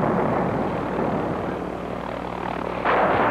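Boeing AH-64 Apache attack helicopter producing a steady, loud rotor and engine drone throughout, with a brief surge of brighter noise near the end.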